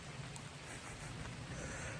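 Steady rain falls outdoors, a dense continuous hiss of drops on surfaces, moderately loud, with no talk.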